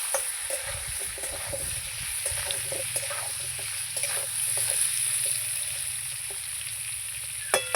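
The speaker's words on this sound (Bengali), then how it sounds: "লবণ আর হলুদ দিয়ে আলুটাকে আমি একটু ভাজবো" Potatoes fry with salt and turmeric in a pan over a wood fire, giving a steady close sizzle with occasional sharp crackles and spatters and no talk.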